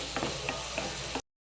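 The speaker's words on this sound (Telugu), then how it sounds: "జస్ట్ ఒక 2 minutes ఫ్రై అవ్వనివ్వాలి. సో దట్ బఠానీ కొంచెం స్మూత్గా అవుతుంది." Peas frying in a pan with chilli powder, salt and garam masala, a close, steady sizzle with several soft stirring scrapes, cutting off abruptly into silence.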